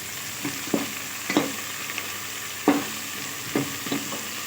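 Spices, fenugreek leaves and cinnamon with cloves fry in a pan for chicken curry, giving a soft continuous sizzle broken by several sharp stirring scrapes and clinks, close and fairly quiet.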